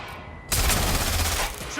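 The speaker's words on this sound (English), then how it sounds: "Shots fired! Shots fired!" A burst of rapid gunfire erupts in a Watch Dogs: Legion firefight after a quieter moment, loud and dense, sustained for over a second before easing off.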